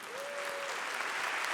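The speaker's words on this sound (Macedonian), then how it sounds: "Сега ќе ве замолам и еден аплауз за хостесите од модното студио Црнокръг" Dense audience applause at the Zlatna Bubamara 2023 awards ceremony, honoring the hostesses from a fashion studio. The clapping is a steady, full wash that holds evenly throughout.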